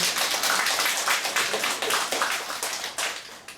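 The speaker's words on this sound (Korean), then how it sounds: "하나님께 영광의 박수를." A church congregation claps together during a Sunday worship service, a loud, even run of hand claps filling the room with no voices over it.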